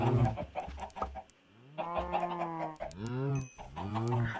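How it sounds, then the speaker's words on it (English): Minecraft chickens cluck repeatedly, with short, choppy clucks and a few longer drawn-out calls, close and fairly loud in a game setting. "See, I can hold pumpkin seeds and chickens will not come to me."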